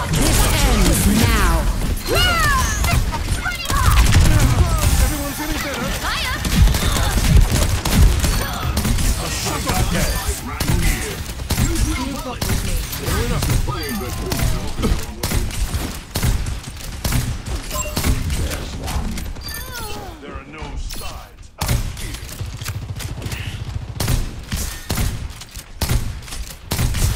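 Dense, sustained gunfire from the video game Overwatch 2 on the Hollywood map, with rapid overlapping shots, impacts and crashes running almost nonstop at close range, mixed with game effects and voices.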